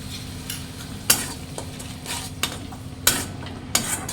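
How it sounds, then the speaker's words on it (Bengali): Spice paste for Bengali rohu fish kalia sizzles softly in oil, broken by several sharp spatula scrapes and knocks against the pan at an uneven pace. "মশলাটা ততক্ষণ কষে নেবে ততক্ষণ তেলটা ছাড়বে। তেল ছেড়ে দিচ্ছে মশলা থেকে"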